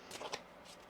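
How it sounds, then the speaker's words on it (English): A tarot deck being shuffled: a quick, soft riffle of cards, brief and close, with a faint papery flutter. "One more shuffle here."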